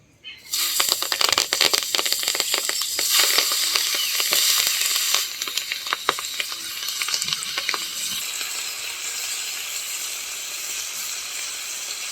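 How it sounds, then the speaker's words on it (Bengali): Chopped cabbage hits hot leftover fish-frying oil in a pan, bursting into loud, dense sizzling and crackling that settles over several seconds into a steadier, quieter hiss. "ওই মাছ ভাজার তেলেই আমি বাঁধাকপিগুলো ভেজে নেব।"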